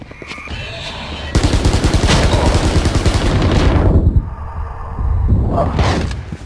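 Rapid automatic gunfire from Valorant, loud dense bursts of shots with heavy low thumps running for several seconds, then a brief lull, a fading whoosh and another short burst near the end.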